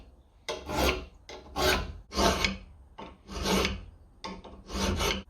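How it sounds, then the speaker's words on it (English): Hand file rasping across a metal touchmark stamp, a series of about six rhythmic back-and-forth strokes, close and moderately loud, with no talk. "so now it's time to move on to the files"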